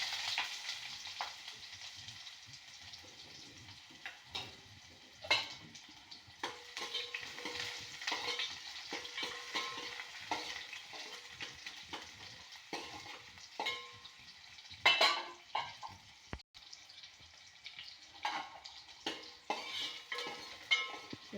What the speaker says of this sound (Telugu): నూనె వేడెక్కింది అండి. కొద్దిగా ఆవాలు, ఇందులోకి కొద్దిగా ఎండుమిర్చి, కొద్దిగా వడియమండి, ఆనియన్